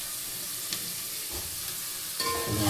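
Onions sautéing in a pan for mushroom gravy, a steady hissing sizzle with a couple of brief stirring scrapes, close and moderately loud.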